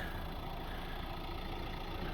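A Renault car engine idles steadily, a smooth, even low hum with no change in pace.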